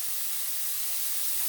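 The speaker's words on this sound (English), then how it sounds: "saute the mushrooms until they start to give out some of the" Cremini mushrooms sauté in a hot pan, giving a steady, even sizzle and hiss that holds throughout at close range, with no voices.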